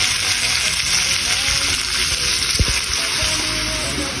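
Fish fries in a hot pan with tomatoes for inabraw, giving a dense, continuous close sizzle with a couple of sharp taps partway through.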